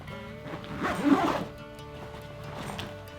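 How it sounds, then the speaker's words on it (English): A camera backpack's zipper is pulled shut in one quick, close zip lasting about half a second, set against a quiet room. "just keep zipping this up here"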